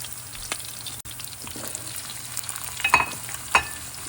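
Potatoes fry in a pan over medium flame for aloo phalee, a soft steady sizzle with scattered taps and a couple of sharper clinks near the end, close and quiet, with no talking.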